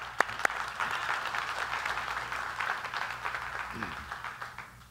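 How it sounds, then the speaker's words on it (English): A church congregation claps briefly, a soft, distant patter of hands spread across the room over low background hum. "Y'all can clap."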